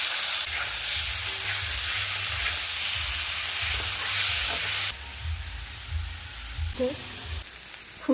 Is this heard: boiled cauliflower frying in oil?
yes